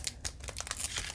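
Foil wrapper of a Pokemon card booster pack from an Evolving Skies set crinkles and tears open in a string of short, close, sharp rustles with no talking.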